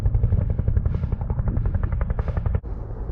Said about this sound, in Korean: 헬기는 계속 맴돌고 빨리 구조가 돼야 되는데